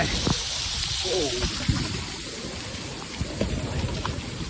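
Rain falls on a mountain trail near Sonprayag in Uttarakhand, a steady hiss of water with a few sharper knocks, while people talk over it.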